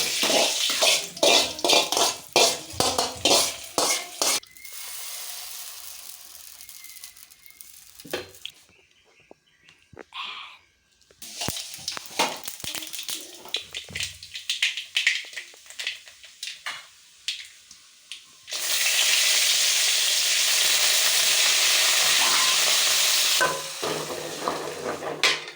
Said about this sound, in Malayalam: ചട്നിയും കടുക് വറുക്കാം